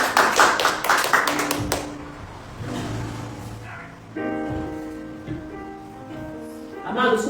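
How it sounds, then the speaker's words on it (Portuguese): A church congregation claps briefly at the start, loud applause that fades within two seconds, followed by a quieter stretch with low tonal sounds. "Você pode aplaudir a Jesus, tomar o seu assento."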